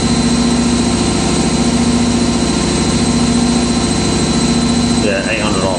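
Indesit WIDL102 washer dryer spinning at 800 RPM during a whites prewash cycle, a loud steady close drone with a sustained whine and rhythmic low thumping, slowing slightly near the end.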